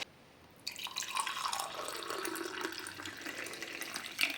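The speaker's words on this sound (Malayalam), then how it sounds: "ഇനി നമുക്ക് ഗ്ലാസ്സിലോട്ട് ഇത് ഒഴിക്കുക." A warm health drink is poured into a glass, making a close, steady trickling and splashing stream that runs for several seconds after a quiet start.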